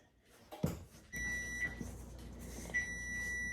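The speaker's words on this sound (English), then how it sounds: "Timer's going off." A kitchen appliance beeps during dessert baking: a brief handling clunk, then a steady electronic tone sounds loudly and continuously with a hum underneath, nearby with no talking.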